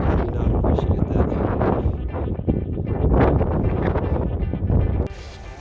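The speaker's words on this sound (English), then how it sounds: "this wind is getting gnarly" Strong gusty wind buffets the microphone in a high mountain boulder field on Longs Peak, a loud continuous roar with surging gusts, dropping off abruptly near the end.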